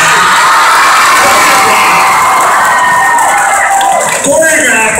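A high school gym crowd roars with sustained cheering, whoops and shouts for a Black Student Union dance squad, loud and close, filling the space without a break.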